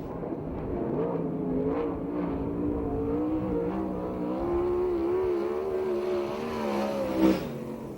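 A USAC/CRA sprint car runs a lap at Perris, its engine a sustained, loud whining drone that shifts in pitch as it circles, with a brief sharper burst near the end.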